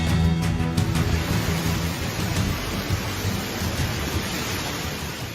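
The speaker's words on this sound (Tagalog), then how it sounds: "Sa video na ito makikita ang lakas ng hangin at ulan na bumayo sa Calbayog City, Samar." Strong typhoon wind and heavy rain lash Calbayog City, Samar, a loud, steady broadband roar with gusting rumble throughout and no voices.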